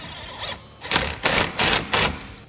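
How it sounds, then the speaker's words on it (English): A hose clamp is tightened during a cab heater install on a Polaris General UTV, giving four short, evenly spaced ratcheting bursts up close, with no talking. "we'll go ahead and we'll tighten up our clamp."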